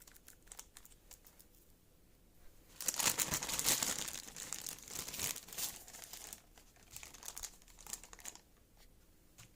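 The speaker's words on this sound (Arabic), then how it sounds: "هبدأ افرزها في اكياس تلاجة، الكمية على قد الاستعمال." Plastic freezer bags crinkle as homemade falafel (ta'ameya) mixture is portioned into them. Close, bursty rustling swells into a dense crackle and then continues in lighter, intermittent crinkles.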